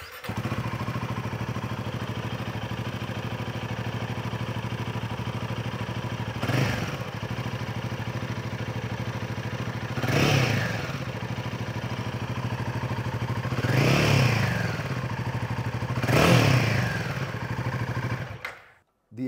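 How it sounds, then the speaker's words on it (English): Stock Royal Enfield Himalayan 450 engine idling with a steady, close thrum through its standard exhaust, broken by four sharp throttle blips that rise and fall at intervals. "We'll make you hear what the stock motorcycle sounds like."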